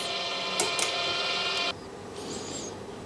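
Whirring and clicking of a PETmachine winder spooling recycled PET plastic filament: a steady, close mechanical hum with a few ticks, then a drop to a quieter whine as the motor stops or slows. No one speaks.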